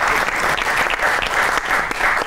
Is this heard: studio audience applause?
yes